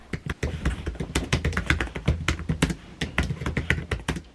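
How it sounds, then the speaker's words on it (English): Rapid, steady typing on a portable tri-fold keyboard with quiet scissor switches, a dense run of soft close-up key taps with no talking. "The keyboard also has a scissor switches quiet typing, which is an ideal choice if you don't want to disturb those around you."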